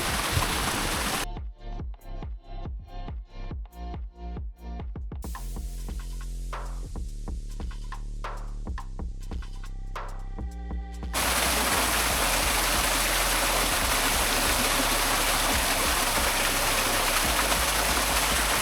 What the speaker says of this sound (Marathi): धबधबा बघायला भेटेल छोटासा का होईना भेटलाय बघायला